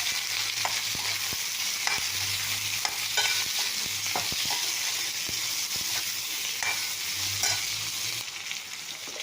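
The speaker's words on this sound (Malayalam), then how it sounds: "നന്നായിട്ട് വഴറ്റിയെടുക്കാം." Sliced okra and potato sauté with salt in a hot pan, a steady loud sizzle with frequent scraping stirs and soft spatula knocks throughout, no voices.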